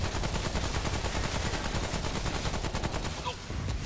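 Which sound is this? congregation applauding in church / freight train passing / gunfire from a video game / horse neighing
gunfire from a video game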